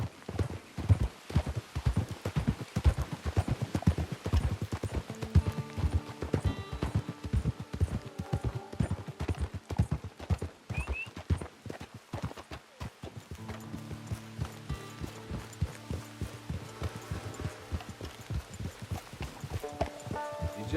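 Horse hooves clip-clopping in the Red Dead Redemption 2 video game, a steady rapid trotting rhythm throughout with a musical score swelling underneath.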